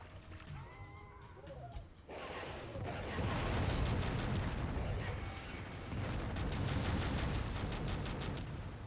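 Gauss cannon blasts in the Descent 2 video game: after a quieter opening, heavy, dense booming bursts fire in sustained volleys, loud and continuous over a rumbling background.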